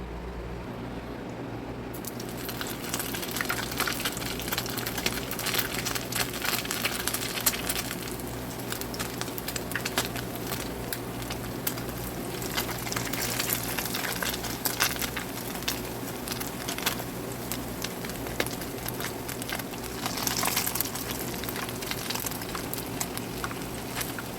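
Steady sizzling and crackling of hot oil in a pan frying taquitos, a continuous bubbling patter with no voices.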